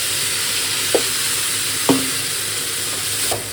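Yogurt and poppy seed paste goes into a hot pan with chili powder and turmeric for a Bengali dish. A steady sizzle runs throughout, with three sharp scraping stirs of a spatula against the pan, close and with no voices.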